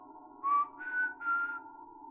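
Three short, clear whistled notes, each rising slightly in pitch, spaced about half a second apart against a steady low hum in an eerie audio drama hallway scene.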